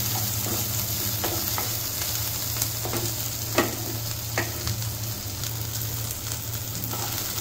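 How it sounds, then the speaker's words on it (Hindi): Onions frying in a pan over medium heat, a steady close sizzle with scattered clicks and scrapes of a stirring spoon, joined by a low hum throughout, with no talking. "प्याज को तब तक चलाना है जब तक लाल ना हो जाए।"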